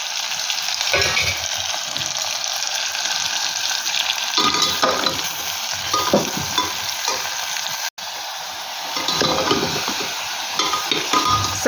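Spices fry in a pan for a vegetarian chickpea, potato and pumpkin dish, giving a loud continuous sizzle while a utensil scrapes and stirs through it in uneven strokes.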